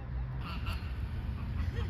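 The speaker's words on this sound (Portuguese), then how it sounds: "Pato atravessando a rua." A duck crossing a street honks and quacks nearby over a low traffic rumble, a few short nasal calls spread across the moment.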